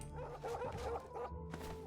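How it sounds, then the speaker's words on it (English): Two dogs bark in The Elder Scrolls IV: Oblivion, quick overlapping yips and bow-wows repeating several times in under two seconds, fairly faint against a low background hum. "Just these two dogs barking."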